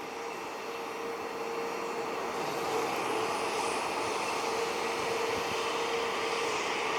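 Aer Lingus airliner departing an airport in Cleveland, heard as a faint, distant, steady jet roar that swells slightly and holds, with no voices.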